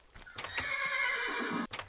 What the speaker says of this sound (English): Because I need this horse to grow.